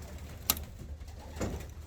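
Young pigeons give soft, low coos, faint and brief, with a sharp click and a second muffled coo against quiet background noise.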